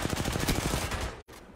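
Rapid automatic gunfire in the video game Apex Legends, a dense burst of loud repeated shots for about a second, then a brief cutoff and quieter tail, with no talk.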